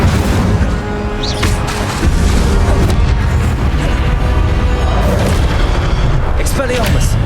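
During Hogwarts Legacy combat on Xbox Series X, the Incendio fire spell bursts among other spells as heavy, explosive booms. Crackling blasts and rumbling impacts pile up densely and loudly the whole time.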